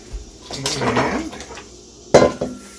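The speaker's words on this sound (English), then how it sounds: "give that a little stir." Spoon stirring raspberry wine in a one-gallon batch, with clinks and scraping against the container followed by a sharp knock, fairly close and clear.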